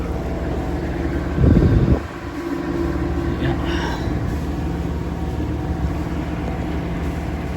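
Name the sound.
sailing yacht motoring under engine across the Aegean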